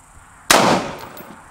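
A single sharp, loud gunshot from a 16-inch AR-15 M4 firing an M193 round cracks out and then decays over about a second with a trailing echo.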